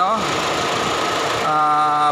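A Mitsubishi Lancer with a 4G13 engine idles in a steady, close drone with faint knocking and vibration, while someone talks over it.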